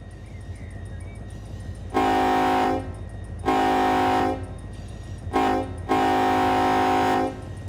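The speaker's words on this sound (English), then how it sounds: "A loud horn when you're out here." Four loud blasts of a train horn in the Run 8 Train Simulator game, on the ATSF San Bernardino Sub, long, long, short, long, sounding over a low rumbling engine drone.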